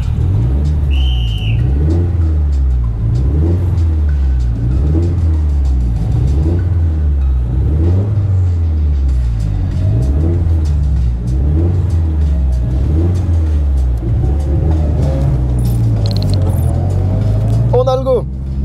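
A Nissan S13 and other race cars pull away at the start of a track session at Jap'n'Car Festival, with engine pitch rising and falling in repeated revving cycles, heard up close from inside the car, with voices talking over it.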